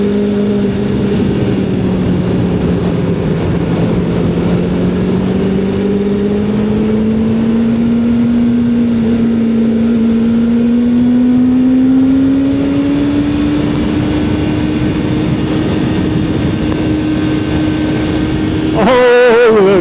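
A Suzuki motorcycle runs while being ridden. The engine hums steadily and its pitch drifts slowly up and down as speed changes, with wind rushing throughout, and a brief burst of noise comes near the end.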